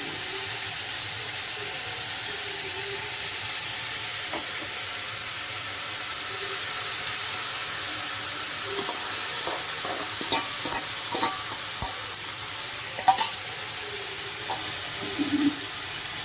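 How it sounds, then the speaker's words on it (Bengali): Chicken and cabbage momo filling fries in a pan with a constant, close hiss and sizzle, joined in the second half by a run of scraping stirs and light clinks of the utensil. "আমি 5 থেকে 7 মিনিট মতন একটু আস্তে করে নাড়বো এইভাবে, যাতে সমস্ত মশলার সঙ্গে আমার চিকেন এবং বাঁধাকপি একসাথে যাতে আর কি মিশে যায় ভালোভাবে।"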